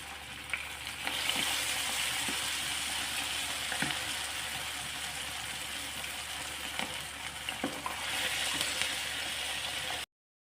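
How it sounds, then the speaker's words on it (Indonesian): Chicken with lime leaves and shrimp paste fries in oil over low heat, giving a steady, soft sizzle and crackle close by, with occasional faint stirring scrapes and no talking. "Kita goreng dengan api yang kecil ya teman-teman, supaya nanti hasil gorengannya itu cantik dan matangnya itu merata ke dalam-dalam ya."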